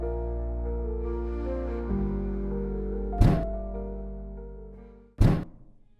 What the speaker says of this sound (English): that sounds to be like some banging